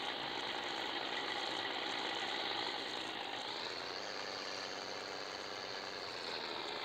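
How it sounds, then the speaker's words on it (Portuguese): A loaded Scania 111 truck engine drones steadily at low revs, a constant mechanical rumble with no talking, engine braking on a descent. "Segurar agora tudo no freio motor aqui"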